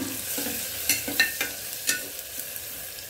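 Red chili powder, garam masala and spices being stirred in hot oil in a frying pan, with a soft sizzle and several sharp scraping knocks of a spoon against the pan at an uneven pace, close and fairly quiet.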